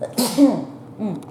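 A single sharp sneeze from a man, close and loud, followed by a short breathy vocal tail.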